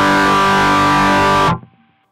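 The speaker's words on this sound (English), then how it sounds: "awful distortion sound." Electric guitar through a Line 6 Helix with the distortion block placed after the amp, giving a harsh, fizzy, buzzing sustained chord that rings loudly for about a second and a half and then cuts off abruptly, leaving a short decaying tail.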